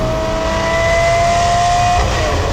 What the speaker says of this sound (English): You get this howl like you get in all V12 Lambos, and then it builds and it builds and builds until you've just got to change gear.